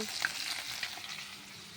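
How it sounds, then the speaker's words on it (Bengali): Fish fries in a pan, a steady close sizzle with a few small pops and a light stir early on, no voices. "আমি মাছগুলো ভেজে নিচ্ছি"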